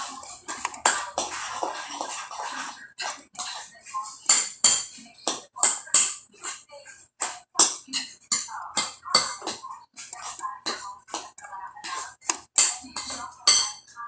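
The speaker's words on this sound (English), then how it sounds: "you're going to mix that in very well" Eggs and sausage are mixed in a bowl with a utensil, making rapid, irregular clinks and scrapes against the bowl that continue closely without pause.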